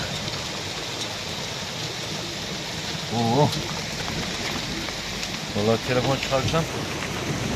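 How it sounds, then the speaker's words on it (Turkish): Marble-sized hail pours down outside a chicken coop in a steady, dense patter, while someone speaks briefly over it. "Misket büyüklüğünde dolu yağıyor."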